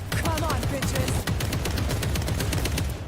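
Rapid bursts of automatic gunfire in the video game World War Z, loud and continuous, with faint voices underneath.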